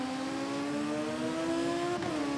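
Motorcycle in the video game TT Isle of Man racing out of a hairpin, its engine note climbing steadily under hard acceleration and shifting up near the end, loud and continuous with no talk.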